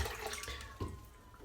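Running water pours steadily into a bowl for shaving lather, a continuous splashing wash with one small plop partway through, close and fairly quiet.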